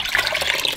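Pigmented water sloshes briefly inside a bucket of slime, a quick close splash and gurgle lasting under a second.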